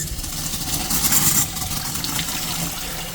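Water runs from an RV bathroom faucet in a steady, moderately loud hiss, with a low mechanical hum beneath and a brief louder surge of flow partway through.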